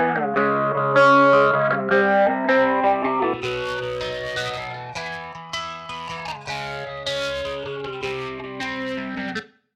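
Distorted electric guitar through an amp head simulator in Ableton Live plays crunchy chords and ringing notes with a chorus-like shimmer, loud and up close, ending with a sudden cut to silence.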